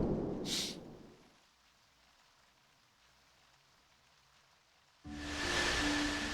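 Rain falls in the role-playing video game Dragon Quest X, a steady soft hiss of drops that fades to a quiet patter and then swells louder again near the end, with no talk over it.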